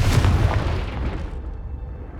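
Incendio and Confringo spell blasts in Hogwarts Legacy hitting as a loud, booming fiery burst up close, then a rumbling decay that fades within two seconds.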